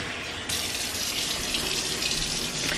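Tap water gushes steadily into a cooking pot being topped up for blanching vegetables during a home meal prep, a loud continuous splashing stream that starts abruptly and runs on without talk.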